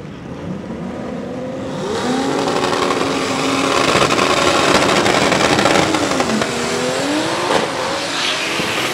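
Turbocharged drag racing cars launch and accelerate hard down the strip, a loud continuous engine roar with rising and shifting pitch sweeps, building in intensity and staying close and dominant throughout with no talk.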